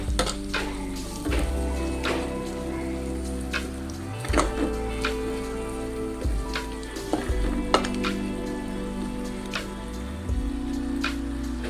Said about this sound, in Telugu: 2 టేబుల్ స్పూన్ కారం, ఇవన్నీ కొంచెం ఫ్రై చేసుకుందాం.